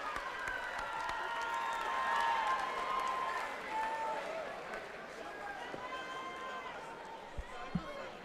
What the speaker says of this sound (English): give another round of applause for both fighters